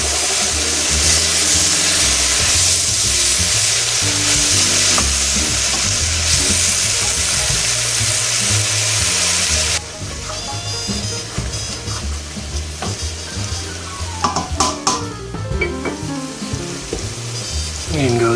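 Zucchini sizzles loudly in a hot pan, a dense hiss that drops abruptly partway through, followed by scraping stirs and clinks as the pieces are moved around.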